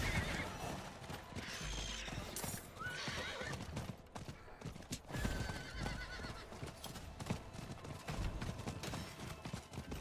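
Horse neighing and hooves clopping in Diablo IV, a whinny over rhythmic clip-clop footfalls mixed with game effects and busy background sound, moderately loud and steady.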